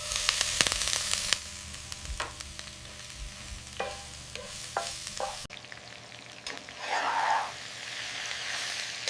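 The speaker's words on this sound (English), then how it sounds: "Now into the same pan goes our broccoli." Broccoli sizzling in a frying pan for a beef stir fry, a continuous close frying hiss broken by sharp clicks and scrapes of a utensil being stirred through, with no talking.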